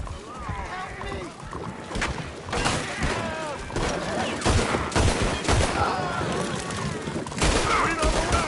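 Gunfire in Red Dead Redemption 2 crackles in repeated bursts throughout, mixed with shouting voices and chaotic battle noise at steady, fairly loud level.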